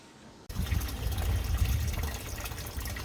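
After a brief quiet start, water gushes from a hose fitted with an RV water filter into a Cold Pod cold plunge tub, a steady, close rushing fill that continues to the end.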